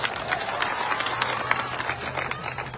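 Crowd applause at an outdoor public political rally in Gujarat, a steady wash of many hands clapping at moderate distance, continuous for a few seconds with no voices over it.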